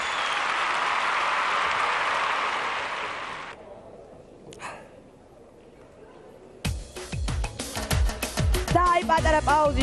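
Loud, dense studio audience applause at a Georgian Dancing with the Stars broadcast, a steady roar for about three and a half seconds that cuts off, followed after a brief lull by music.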